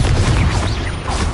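A Confringo blasting spell explodes in the Hogwarts Legacy video game, a loud, dense, continuous roar of booming blast noise that fills the whole moment without a break.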